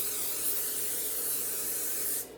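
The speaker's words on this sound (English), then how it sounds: "I take this oil spray, vegetable oil spray, and I just spray the tops" A continuous close hiss of an aerosol vegetable oil spray onto biscuit tops lasting about two seconds, then cutting off abruptly.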